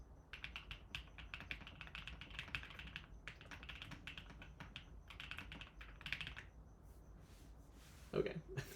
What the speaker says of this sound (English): y'all want a little more typing?